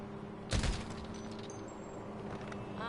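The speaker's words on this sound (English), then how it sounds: "Let's check with the Combat MG, right?" A Combat MG machine gun in the GTA video game fires one short, loud burst of rapid shots early on, then fades into quiet game ambience.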